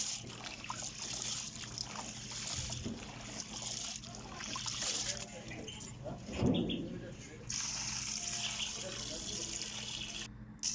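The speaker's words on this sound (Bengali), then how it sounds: "ধোয়ার পর এটা পানিটা ঝরে দিবেন মানে পানিটা ফেলে দিবেন" Water trickles and splashes as it is poured off washed lentils, with a person talking over it throughout.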